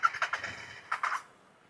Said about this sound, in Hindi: मैं फिर से आपको सेल्फ लेकर दिखाता हूँ कि अपनी बाइक स्टार्ट हो पा रही है या नहीं